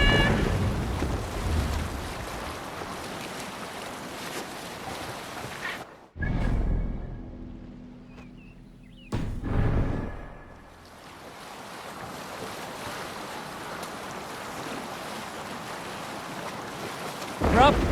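Sailing ship crossing ocean waves in Assassin's Creed Valhalla, with a steady rush of water and wind, broken by two loud surges and a quieter stretch in the middle before the constant wash returns.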